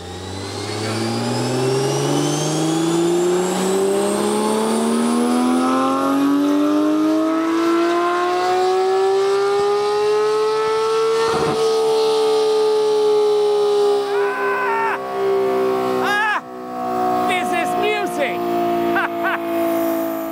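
A 2020 Porsche 991 GT3 RS with a Ferrita exhaust and tuning runs up on a dyno, its engine note climbing steadily in a long loud rev, holding near the top, then dropping away with crackles and pops as a voice speaks briefly.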